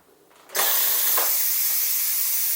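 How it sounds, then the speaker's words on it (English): An electric pressure cooker holding spinach lentil soup vents its steam in a sudden loud, steady hiss that starts after a short faint lead-in and keeps going without a break. "So now we're going to release the steam."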